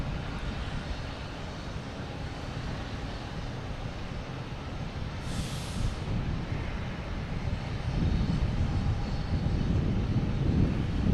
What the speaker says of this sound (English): We got Virgin coming in from London Heathrow.